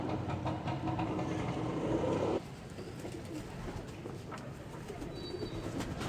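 Pigeons coo softly in the rain near a trap net, against a steady background hiss that drops in level partway through, with no voices.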